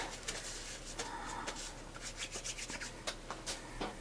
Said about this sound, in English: Get my tissue paper here to dry them with.